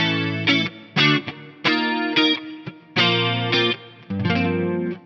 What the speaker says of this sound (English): I've got my preset chorus.